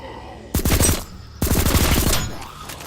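Rapid automatic gunfire with unlimited ammunition in the video game Deathly Stillness comes in two loud, dense bursts separated by a short pause, with the second burst longer than the first.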